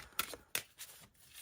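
Large oracle cards are hand-shuffled, with two crisp slapping riffles followed by softer sliding and rustling of the oversized deck, quiet and close with no talk.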